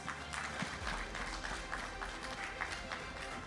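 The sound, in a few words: audience applause for award ceremony helpers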